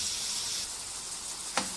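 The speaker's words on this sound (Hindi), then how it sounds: "आपने इसको तकरीबन मीडियम आंच पर 10 से 15 मिनट के लिए फ्राई करना है।" Mutton liver (kaleji) fries in a pan over medium heat, giving a steady close hiss of sizzling with one sharp clink near the end and no voices.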